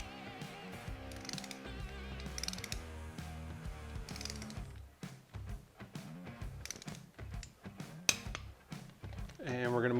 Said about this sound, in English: we're going to go ahead and torque these down now